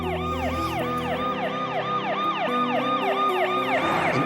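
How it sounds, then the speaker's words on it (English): An emergency siren wails steadily near midnight in a small community, a loud, close, repeating rise-and-fall cycle that fills the whole stretch with no voices. "a siren shatters the silence of a small community"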